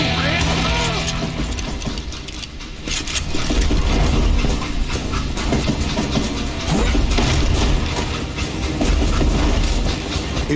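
A train in the Western shooter game Call of Juarez: Gunslinger, loud rhythmic clickety-clack of wagons rolling along the rails with metallic rattling, continuous and close, with a narrator's voice faintly underneath.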